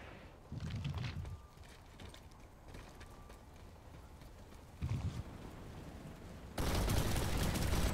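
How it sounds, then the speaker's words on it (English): Turret fire in Planetside 2, a few bursts of rapid mechanical shots in separate short rounds, the last one louder and sustained, over a quiet rumbling battlefield background. "That's a turret."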